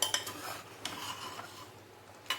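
A spoon stirs mutton in a cooking pot while it is cooked down for mutton kasha, with a few sharp metallic clinks and soft scraping in between, fairly quiet, with no talking.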